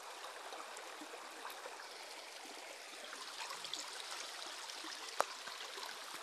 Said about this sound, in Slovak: Ešte keď je tu ten potok, tak musím kričať.